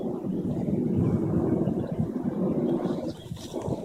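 Chinook military helicopters fly overhead, a steady low rumbling drone with some wind buffeting, fairly distant and fading slightly toward the end.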